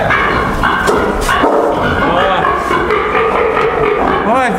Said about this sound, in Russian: Гавкають, як собака